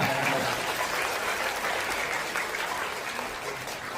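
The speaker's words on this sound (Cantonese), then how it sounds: "咁啊，都俾啲掌聲先啦。" A wedding banquet crowd applauds for the couple, with thick, continuous clapping that stays loud and even for a few seconds before easing slightly.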